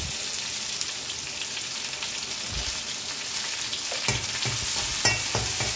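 Curry leaves sizzling and crackling in hot oil in a pan while cooking a breadfruit masala curry, a steady hiss with sharper pops and spatters growing louder toward the end.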